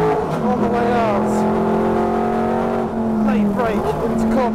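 A 1981 Group 2 Rover SD1 touring car races around a track, its engine holding a loud steady drone with shifting revs. Someone talks over it throughout.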